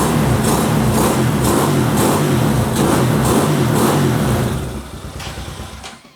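A Honda Hawk 250 motorcycle engine revs hard and close, a buzzy mid-pitched roar pulsing with throttle blips, then dropping off and fading toward idle at the end.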